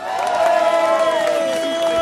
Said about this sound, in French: Nous applaudissons l'Agence régionale de la santé